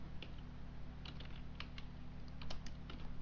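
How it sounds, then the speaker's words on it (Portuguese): Light typing on a computer keyboard, a quick series of soft, close keystrokes over a steady low electrical hum, with no voices. "Voltei a digitar normalmente."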